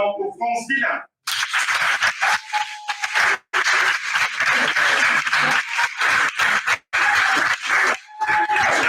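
Sustained crowd applause and cheering for a graduate at a French-language diploma ceremony for primary-school teacher and special-education graduates, loud and continuous with brief dips, after a short spoken announcement at the start.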